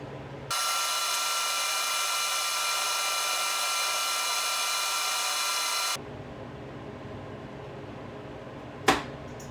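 A Comfort Zone CZ230ER 240V 7500W electric heater blows a steady, loud broadband whoosh of fan noise, then abruptly shuts off, leaving a quieter low hum and a brief click near the end.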